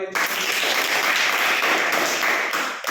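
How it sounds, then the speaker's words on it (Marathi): Children in a classroom clap together for a classmate, a short burst of brisk, fairly close applause lasting a few seconds and fading at the end. "बरोबर आहे, छान, टाळ्या वाजवा"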